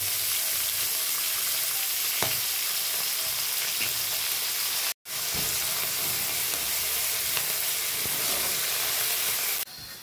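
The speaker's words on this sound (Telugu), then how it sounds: "మెంతాకు, కొత్తిమీర, స్ప్రింగ్ ఆనియన్ అవన్నీ ఇప్పుడు ఇందులో వేసుకుంటున్నాం." Fenugreek leaves, coriander and spring onion sizzle steadily in hot tempering oil for a Telugu pachi pulusu, a dense continuous crackle and hiss with a brief break midway and a few stirring clicks, no talking.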